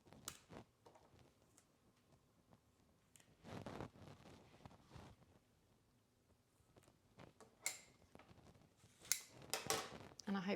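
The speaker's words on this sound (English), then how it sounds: "These side shoots are really long, so I'm trimming these off" Scissors snip long side shoots off cut flowers, giving a few close, crisp clicks and cuts spaced apart among quiet rustling of stems.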